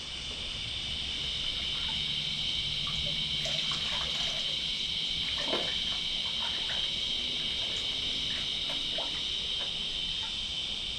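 Water sloshing and trickling as a foam air filter from a Kawasaki KLX 230 ABS motorcycle is rinsed and squeezed in a bucket, close up, with soft splashes and dribbles over a steady high hiss.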